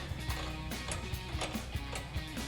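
Rapid ratchet clicks from a ratchet wrench with an 18mm socket tightening a factory nut on a carriage bolt during a Jeep Gladiator JT steering stabilizer install, repeated short bursts of close, light mechanical clicking.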